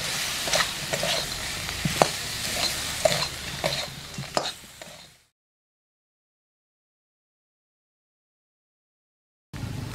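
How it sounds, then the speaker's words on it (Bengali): Fried papad and potatoes tossed onto spices in a hot pan give a close sizzle with scraping and clinking stirs for about five seconds, then silence before a brief return of sizzling. "এইবার ভেজে রাখা পাঁপড়গুলো, আলুগুলো মশলার ওপরে দিয়ে দিলাম।"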